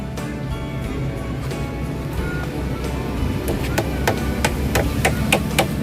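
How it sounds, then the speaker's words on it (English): Small nails tapped by hammer into the edge of a wooden Christmas tree base platform: a quick series of light, sharp taps builds in the latter half over a low background hum. "we're putting small nails around the edge of our Christmas tree base platform"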